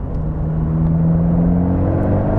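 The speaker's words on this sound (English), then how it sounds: "Then the turbo kicks in and you're off." An Abarth 124GT turbo engine pulls hard under acceleration, a loud, close mechanical drone rising smoothly in pitch throughout, with no talk.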